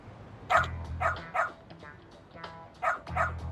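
Several barks from a dog in the video game Lost Judgment, coming in two clusters of two or three sharp, fairly close barks separated by a short pause.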